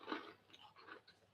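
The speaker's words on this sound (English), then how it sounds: "It's a wholemeal crunchy breadstick surrounded by sesame seeds" Someone bites and chews a crunchy wholemeal breadstick coated in sesame seeds, close and quiet, with one sharp crunch followed by several softer chewing crackles and no talking.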